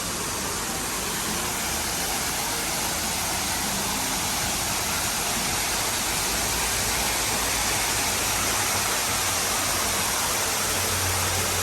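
A waterfall at Mai Huean 60 coffee shop in Mae Rim, Chiang Mai, gives a steady, dense rushing roar that fills the whole stretch without letup, close and even.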